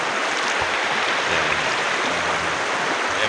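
River water rushing steadily around people bathing in it at a campsite in Marilaque, a dense, continuous wash of flowing water close by with no clear breaks.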